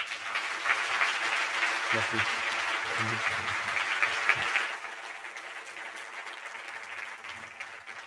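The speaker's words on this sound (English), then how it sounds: "Please give him a warm hand of applause." An audience claps warmly at the close of a leadership program, a steady wash of applause lasting several seconds before fading, with a voice speaking briefly over it.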